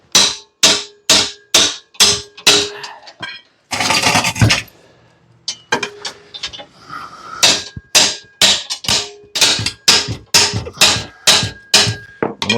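Loud, rapid metallic hammer blows strike the pulleys of a Kohler twin engine, ringing out in steady bursts, with a brief scraping pause midway before the pounding resumes.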